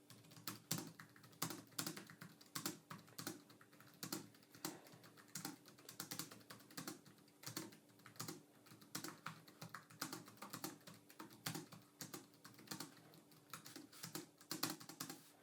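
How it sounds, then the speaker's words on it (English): Typing on the keyboard of a Gigabyte Aero 15X laptop with short-travel switches, a quick, steady run of soft, even key clicks, close but quiet, with no talking. "here's a quick sound test of the Aero 15X's switches."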